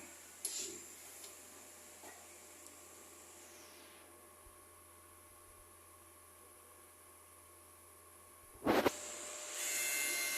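A DTF printer running a head cleaning cycle whirs and hums with a short mechanical burst at the start, a steady low drone, then a louder motor kick near the end.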